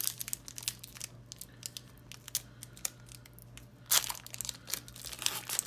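A Pokemon Unified Minds card pack being torn open: soft crinkling and tearing of the foil wrapper, quiet and close, with a sharper rip near the end.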